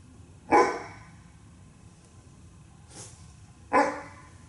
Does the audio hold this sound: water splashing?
no